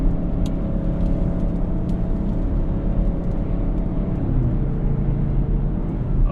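A 2021 Audi C8 RS6 Avant fitted with a RedStar exhaust cruising in sixth gear on a highway, a steady low engine drone and road rumble held at constant volume throughout, close and continuous with no talking.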